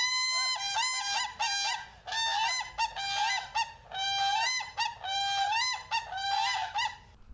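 Recorded calls of a whooping crane: loud, brassy honking notes in rapid bursts, repeated in several close, clear phrases with short gaps between them.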